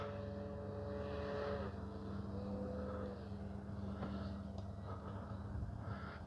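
A Hangar 9 J-3 Cub RC plane with a 10cc engine drones steadily overhead as it comes in to land, a faint, distant buzz of the propeller engine that shifts pitch slightly, with no talking.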